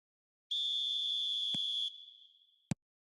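A single long referee's whistle blast signals kickoff in an eFootball 2026 match. It is shrill and steady, then tails off and ends with a sharp click.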